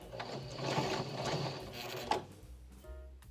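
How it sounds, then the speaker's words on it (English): A sewing machine runs a reverse stitch through thick fabric on a DIY designer-style purse, giving a faint, close mechanical whirring and clicking that fades out partway through. "I did a reversed stitching."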